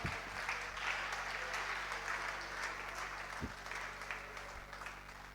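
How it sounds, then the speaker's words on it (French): Audience applause at a church service, a steady wash of clapping that holds at a fairly even level throughout, with a few sharper low thumps standing out near the end. "Est-ce qu'on peut applaudir la parole du Seigneur?"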